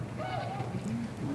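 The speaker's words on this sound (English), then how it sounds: "if you listen carefully, you'll hear Tundra swans." Faint honking tundra swan calls, a couple of short rising notes, heard distantly over a steady background hum.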